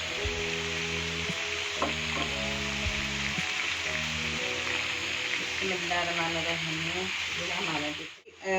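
Cumin seeds and a little ginger sizzle steadily in hot frying oil for a charsi karahi, a continuous bright hiss with faint stirring, while a voice speaks over the cooking.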